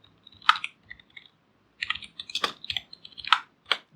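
Fast clicky typing of CSS code on a computer keyboard, close and clear, coming in bursts of keystrokes separated by brief pauses.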